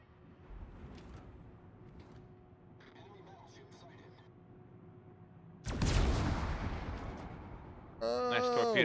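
In a World of Warships battle, a heavy cruiser's fight brings faint distant booms, then a loud explosive burst of torpedo hits and gunfire that trails off, followed by a sharp metallic alarm-like tone.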